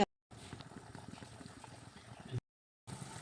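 Butter heats in a pan on a gas stove as it turns into desi ghee, giving a soft, steady bubbling simmer with quiet pops. The sound is low and close, with brief silent gaps.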